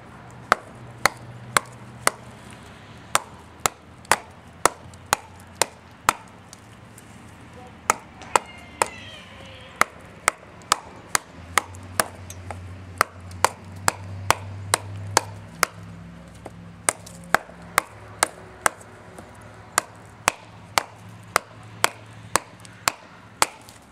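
A Smith & Wesson Homeland Security fixed-blade knife, fairly dull, chops into wood with a long run of sharp, close knocks. The strikes come in quick bursts with short pauses between them.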